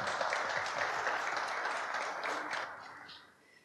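An audience at a book club event with an invited author claps in a steady wash of applause that slowly fades, fairly faint and distant.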